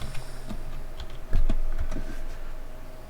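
Computer keyboard being typed on in a short burst of separate keystrokes, a few louder clacks standing out, close and clear with no talking.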